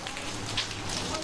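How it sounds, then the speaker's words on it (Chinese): Heavy rain pours down on a seaside fishing village, a dense, steady hiss of downpour close around. "村子里忽然就下起了大雨"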